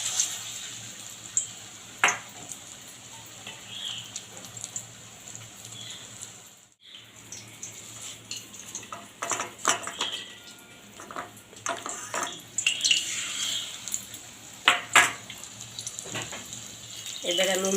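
Kulekhara leaf fritters fry in hot oil, a soft continuous sizzle broken by irregular louder bursts of bubbling and crackle, with a brief pause partway through.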